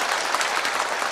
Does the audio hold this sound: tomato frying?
no